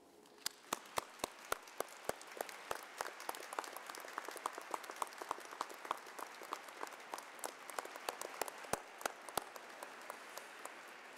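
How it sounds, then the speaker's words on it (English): An audience at a university summer graduation ceremony claps at a moderate distance, a sustained patter of many hands with sharp individual claps standing out throughout. "and let's applaud them."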